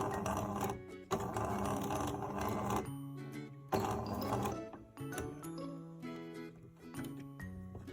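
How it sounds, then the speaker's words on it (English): A sewing machine stitches the ends of bound buttonholes on a short stitch length, with fast mechanical whirring broken up by pauses and slower, turned-by-hand ticking. "I use my hand wheel to do the last stitch to make sure it's just exactly in the right place."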